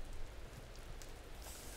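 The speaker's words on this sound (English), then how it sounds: "rain sounds." Rain falls steadily and softly, a faint, even wash of patter added as an ASMR background with no voices over it.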